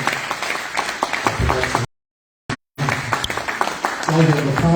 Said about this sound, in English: How about a sign of applause and appreciation for Delegate